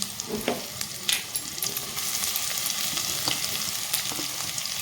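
Marinated bitter gourd pieces frying in hot oil with whole cumin and fennel seeds, giving a steady close sizzle with some stirring scrapes near the start.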